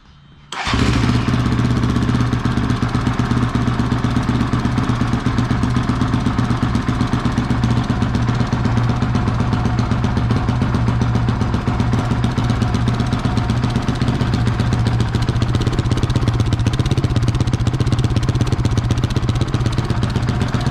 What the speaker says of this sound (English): first we're gonna read the stock exhaust with the handy dandy app here